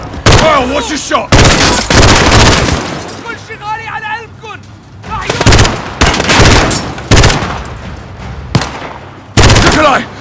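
Gunfire in Call of Duty: Modern Warfare, with loud bursts of shots and explosive blasts crashing in repeatedly, interleaved with shouted voices and radio chatter between volleys.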